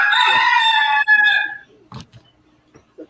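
A rooster-crow phone ringtone plays loud and clear for about a second and a half, then cuts off, leaving faint scattered noises behind.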